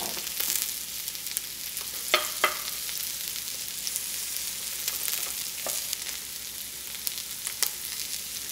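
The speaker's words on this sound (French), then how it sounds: "Là j'entends que ça grésille." Onion and half-ripe green papaya sizzle steadily in oil in a pan, a close, continuous hissing crackle broken by a few sharp pops and soft utensil scrapes as the food is stirred.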